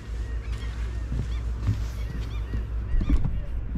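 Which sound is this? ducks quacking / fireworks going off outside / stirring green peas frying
ducks quacking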